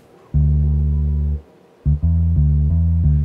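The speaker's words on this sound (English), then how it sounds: "So the point of today is to replace the horrible MIDI bass" Flat, synthetic MIDI bass notes with a buzzy electronic tone, one long held note, a pause, then several quicker repeated notes, loud and alone.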